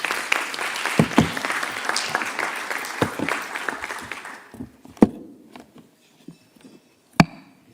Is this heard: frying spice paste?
no